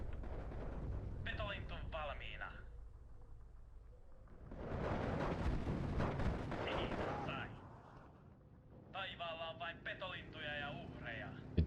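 Aircraft strafing run in the Steel Division 2 war game, a loud burst of heavy automatic gunfire and rumbling impacts at the middle of the clip, with voices talking before and after.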